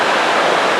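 Roaring waterfall on the Ricketts Glen Falls Trail in Pennsylvania, a loud, steady wash of rushing water filling the whole moment with no voices.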